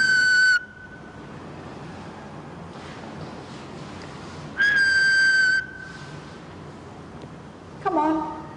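Whistling carried down a telephone line during a live ghost-hunt phone experiment: two sharp, thin single-pitch whistles a few seconds apart over faint line hiss, then a brief lower voice-like burst at the end.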